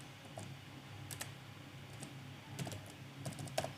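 Someone types code on a computer keyboard, a quick run of light key clicks with a couple of sharper taps, close and fairly quiet.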